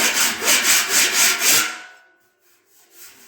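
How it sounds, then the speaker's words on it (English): A rasp files the sheet metal bodywork of a 1948 Ford 8N tractor in five or six quick, even strokes, harsh and close, then falls quiet with faint shuffling. "you could take a lot of that out just with the rasp"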